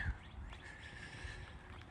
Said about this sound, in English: beautiful morning. Hear the birds chirping.